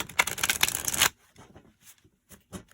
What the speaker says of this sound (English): bear with me a couple seconds here while I shuffle through all of my cards